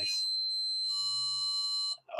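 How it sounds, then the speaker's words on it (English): A washing machine's buzzer sounds in service mode, a steady high electronic tone held for about two seconds, loud and close, then cut off. "that buzzer don't sound that nice"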